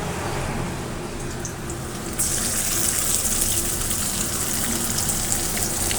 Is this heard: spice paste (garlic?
yes